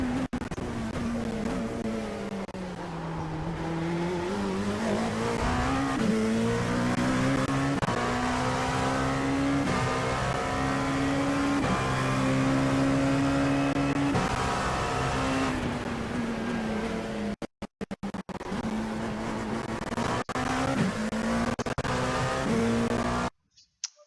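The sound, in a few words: LMP2 race car driving in iRacing video game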